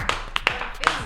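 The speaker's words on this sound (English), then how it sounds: "Clap it up." Scattered hand claps from a few people in a podcast studio, several separate sharp claps spread across a second, with speech-like sound around them.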